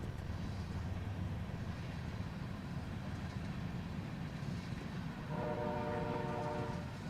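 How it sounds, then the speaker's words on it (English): A train rumbles past near a high school baseball field, a low steady roll building until a loud multi-tone horn sounds near the end, with no talk. "Hello, train."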